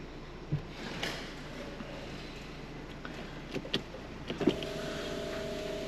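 An electric sunroof on a Mercedes GLC 350d closes with a steady low motor whir inside the cabin, marked by a few faint clicks and a soft thunk near the end.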